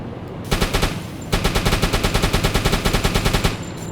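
Rapid automatic gunfire from a deck gun shooting armor-piercing rounds at a ship in the submarine game UBOAT, a short burst followed by a longer sustained string of evenly spaced loud shots.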